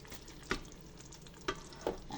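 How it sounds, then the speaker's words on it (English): Curried tofu simmering and sizzling in a pan, a steady soft bubbling hiss with three louder scraping stirs, close by. "After 10 minutes of simmering"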